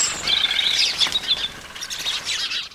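Several birds chirp and tweet in quick, bright bursts, close and fairly loud, standing alone without any voices.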